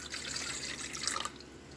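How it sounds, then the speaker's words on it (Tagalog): Three-quarters of a cup of water pours for kutsinta batter in a short, close, splashy trickle that stops abruptly after about a second. "Ngayon po, ilagay po natin ang 3/4 cups ng water"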